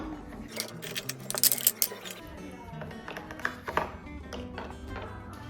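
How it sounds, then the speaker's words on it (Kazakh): Dishes being washed in a cartoon kitchen: running tap water with clattering plates and clinking cutlery, a busy close mix of knocks and rattles over a steady wash. "Қазір ыдысты жуу керек."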